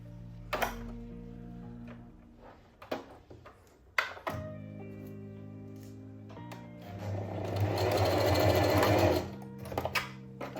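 A sewing machine edge stitching the straps of a cowl neck bias dress, with short runs of whirring stitching broken by clicks and pauses, then a longer loud, steady burst close up; no one speaks.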